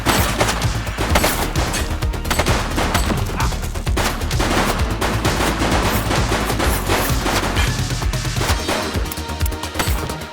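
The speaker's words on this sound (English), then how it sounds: "She's shooting!" Sustained gunfire in The Precinct police video game, a dense, loud barrage of rapid shots and bursts filling the whole stretch with no let-up, like machine-gun fire mixed with crashes.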